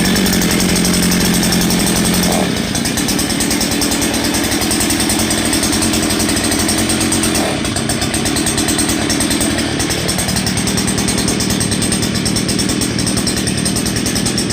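Cheap 5-in-1 string trimmer's small two-stroke engine on its very first startup, buzzing loudly and steadily up close for the whole stretch with only slight wavering in pitch.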